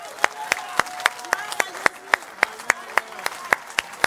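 Rhythmic clapping from a church congregation, sharp regular claps about four per second, fairly close and steady, with a faint voice underneath.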